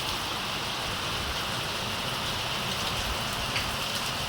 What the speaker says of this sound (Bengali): দেখুন জোরেই বৃষ্টিটা নেমেছে